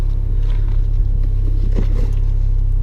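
A Mini's engine idles steadily, a loud, continuous low rumble with an even throb and no one speaking.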